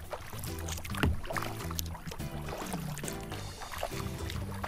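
A kayak paddle dips and strokes through a calm lake on a Texas cove paddle trail, steady rhythmic splashes and drips close by with no talking.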